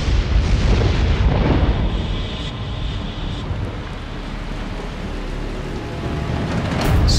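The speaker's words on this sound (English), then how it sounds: "The rain falls hard here." Heavy rainstorm in Death Valley, a loud, steady broadband roar of hard-falling rain with rumbling low-end surges and wind buffeting, swelling again near the end.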